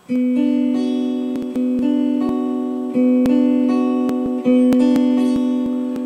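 Electric guitar plays a riff, a clean, steady pattern of repeated notes played alone, with sustained tones and regular picked attacks in four similar phrases.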